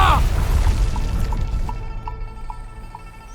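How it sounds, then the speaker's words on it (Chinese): A mine explodes in an animated fantasy series: a heavy boom opens, then its rumble fades away under a run of evenly spaced, faint ringing pings. "矿山爆炸了！"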